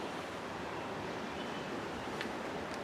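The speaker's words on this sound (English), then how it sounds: "It's a little windy out here." Steady outdoor wind roars in a broadband rush with no voices, a constant blustery noise throughout, outdoors at night.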